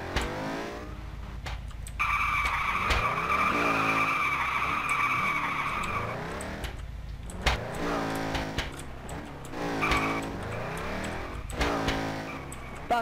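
A car drifting in Garry's Mod DarkRP roleplay, with loud sustained tire squeals and revving engine passes that rise and fall over about thirteen seconds.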